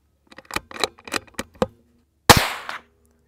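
A .22LR rifle fitted with a Dead Air Mask suppressor fires a single shot, a sharp, close crack with a brief muffled tail, following a run of light mechanical clicks and handling noises.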